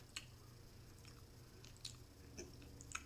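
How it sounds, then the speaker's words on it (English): Hard sour candy being chewed, giving a few soft crunching and squishing bites spaced over a few seconds, close and fairly quiet, with no talking. "Yeah, really hard to chew"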